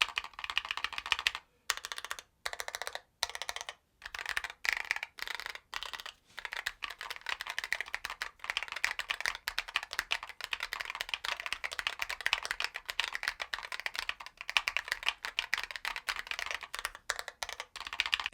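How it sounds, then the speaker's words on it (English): Rapid typing on a gaming keyboard with an aluminum case, dampening foam and silicone keycaps, giving muted, soft clacks in quick bursts with brief pauses, close and fairly quiet, with no talking. "Let me let you listen to this here, because again, you got that dampening foam, those multiple layers here with that aluminum case and then these silicone keycaps."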